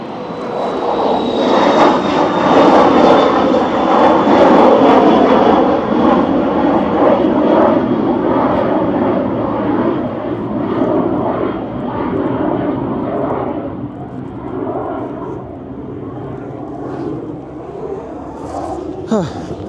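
An airplane takes off near an airport on a stormy evening, its loud engine roar swelling early and then slowly fading into the distance as it climbs away.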